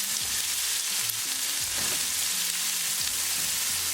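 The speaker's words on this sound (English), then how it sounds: "Cooking onion for 2 minutes." Chopped onion frying in a pan for a meatball curry, with a dense, constant sizzle filling the whole stretch and a few faint stirring scrapes underneath.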